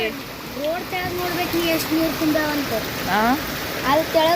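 Someone talks over a constant wash of falling rain that hisses steadily in the background throughout.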